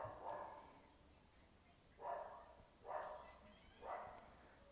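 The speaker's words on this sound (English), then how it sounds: "that's my dog barking in the background" A dog barks in the background, faint and distant, with three or four short, evenly spaced woofs coming through under the steady room tone.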